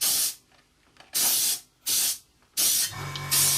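Three long hissing blasts of spray paint from a can onto a 1/32 scale AV-8B Harrier model kit, each about half a second with short pauses between, close and loud, followed by another burst.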